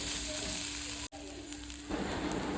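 Coriander, cumin and garam masala powder fry in oil with a soft, even sizzle, broken by a brief dropout near the middle and growing a little brighter and crackly toward the end.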